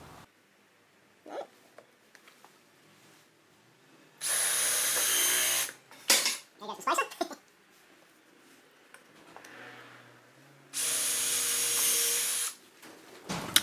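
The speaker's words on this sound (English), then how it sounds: "So I'm going to hold these bottom boards on with screws." A power drill drives screws into wooden bottom boards of a compact sewing table, two loud sustained whirring bursts separated by clattering handling noises in a quiet workshop.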